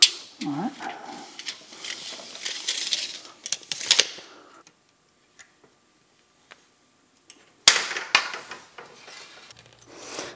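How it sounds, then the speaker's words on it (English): An inside lip of shop air pipe is deburred in bursts of close scraping and rasping, with a quiet pause in the middle before the grinding resumes, plus a few clinks. "So this just deburrs that inside lip because the fittings have O-rings"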